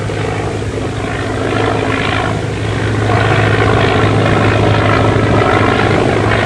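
A 1930s propeller airplane drones steadily overhead, its loud engine roar filling the scene without pause and swelling slightly louder toward the end, with no voices over it.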